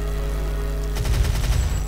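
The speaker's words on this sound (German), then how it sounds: "jetzt habe ich so eine Einschlag-Explosion" Weapon impact explosions in the game Doom 2016, played through the Back to Saturn X2 mod in GZDoom, a rapid burst of loud, punchy blasts that start after a steady low hum.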